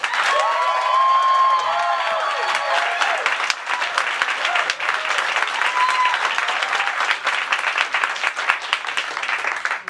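A debate audience claps and cheers to vote no on whether wokeness is killing comedy, a dense burst of applause with whoops that starts strong and slowly thins out over ten seconds.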